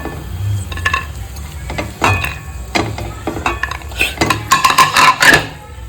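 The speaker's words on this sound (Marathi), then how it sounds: "थोडे शालो फ्राय करायचे" Metal utensils scrape and clink in a pan while something shallow-fries in ghee for carrot halwa, with soft sizzling under busy stirring that grows louder toward the end.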